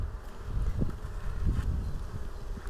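A dense, continuous buzzing of many honeybees swarming up close at the hive, a low humming drone that stays steady throughout.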